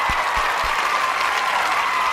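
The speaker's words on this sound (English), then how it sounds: "Malcolm needs an applause" Steady, even applause from an audience fills the whole stretch, with a few soft low thumps underneath.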